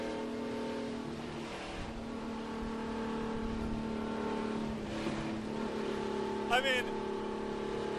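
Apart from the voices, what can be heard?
car engine revving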